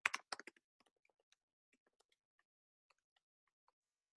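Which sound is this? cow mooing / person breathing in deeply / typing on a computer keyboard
typing on a computer keyboard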